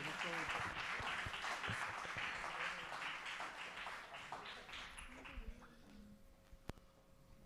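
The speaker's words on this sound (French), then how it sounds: "Sous vos applaudissements s'il vous plaît." Audience applause at an awards ceremony opening, a dense burst of many hands clapping that holds steady and then thins and fades out over the last couple of seconds.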